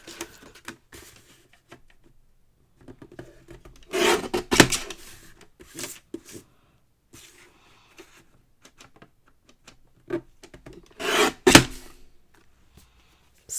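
A jagged top edge is trimmed off a paper card, making short dry rasping cuts in two close bursts separated by quiet, with faint scattered handling noises.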